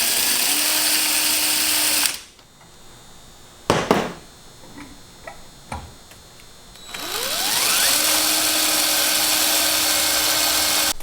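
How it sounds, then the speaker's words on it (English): A power drill bores a hole in metal for a roof awning mount, whining steadily in two long close runs with a rising pitch sweep as it spins up again, separated by a quieter pause with a few clicks and knocks. "So I got the first hole drilled."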